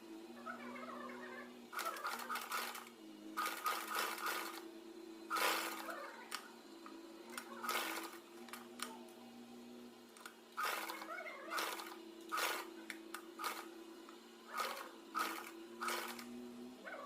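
A sewing machine stitches a saree belt in several short runs, its steady mechanical hum broken by pauses, with a low electrical drone underneath and no clear speech.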